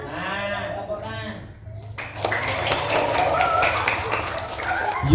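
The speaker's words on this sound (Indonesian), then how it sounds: "Nah, tepukan." Children clap together at a Ramadan school gathering, a steady patter of many small hands starting abruptly after an adult voice speaks, continuing at moderate loudness.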